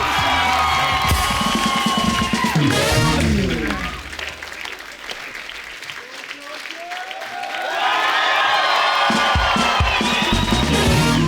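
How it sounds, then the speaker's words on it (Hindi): Loud applause and cheering from a large TV studio audience, swelling, dipping briefly, then rising again to a full roar. "जोरदार तालियां"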